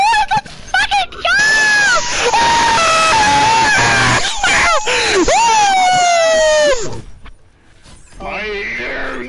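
Overwatch players screaming and wailing loudly over voice chat during a ranked game, long strained shrieks that rise and fall in pitch, overlapping and clipping, with a brief drop before more yelling resumes.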